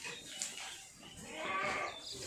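Goats bleat on a livestock farm where cattle and goats are raised for Qurbani; the cries are faint and wavering and rise toward the middle against a low background murmur.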